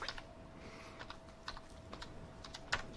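A computer keyboard being typed on while entering a formula into an Excel spreadsheet: a short run of soft, close key clicks in a quiet room, with one sharper tap near the end.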